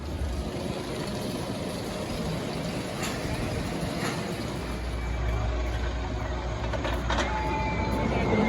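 The Superman hypercoaster train at Six Flags America rumbles along its track in a steady roar with faint clacking, heard at a distance amid park ambience and some background voices.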